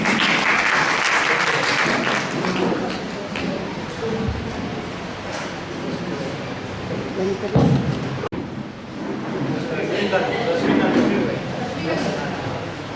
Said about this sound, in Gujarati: એ માટે એમને તાળીઓથી વધાવી છે